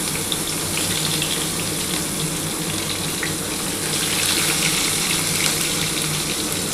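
Two chopped onions drop into hot oil in a pan for a Bengali sea fish dish, giving a steady, close, broadband sizzling hiss that holds evenly throughout with no talking.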